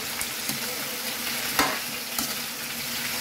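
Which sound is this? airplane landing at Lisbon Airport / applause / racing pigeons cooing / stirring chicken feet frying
stirring chicken feet frying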